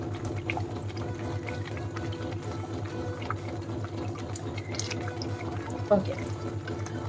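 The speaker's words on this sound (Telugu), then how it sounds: "ఇప్పుడు ఇందులో ఒక కప్పు వెనిగర్ వేసుకుందాం" A cup of vinegar is poured into colorful homemade tomato ketchup, a soft continuous liquid pour over a steady low kitchen hum, with one brief louder knock near the end.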